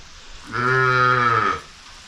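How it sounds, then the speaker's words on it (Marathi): A single loud, close moo from a calf calling for its mother in the rain, about a second long, rising and falling, with quiet background before and after. "जसं पाऊस पडेल तसं आपलं वासरू त्याच्या आईला हाक मारते"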